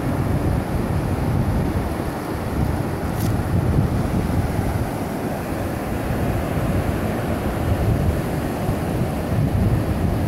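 Ocean waves and wind at Daytona Beach, Florida make a steady, dense wash of noise that never lets up, with wind rumbling across the microphone throughout and no one speaking.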